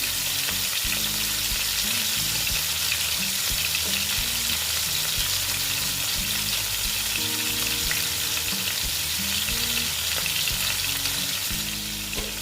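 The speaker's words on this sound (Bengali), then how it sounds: "মাছটা মোটামুটি আমি ভাজবো খুব একটু কড়া ভাজবো" Koi fish frying in a pan hiss with a loud, steady, unbroken sizzle from start to finish, with no voices over it.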